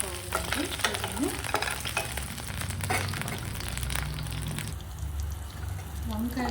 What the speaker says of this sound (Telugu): మధ్య మధ్యలో మనము ఈ వంకాయని తిప్పుకుంటూ మీడియం ఫ్లేమ్లో కొద్దిగా వంకాయలు బాగా సాఫ్ట్ అయ్యేదాకా మనము ఆయిల్లో ఫ్రై చేసుకోవాలండి